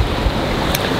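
A boat sailing toward Hornbæk in a northwest wind sends out a loud, constant wash of water and wind rush, with a brief splash or knock near the end and no voices.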